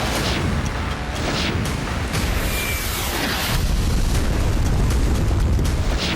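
Rocket attacks by Hezbollah on Avivim in Israel's western Galilee produce a dense, continuous roar of heavy rumbling booms and crackling blasts, loud and unbroken.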